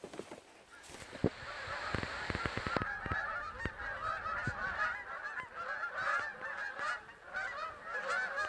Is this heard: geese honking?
yes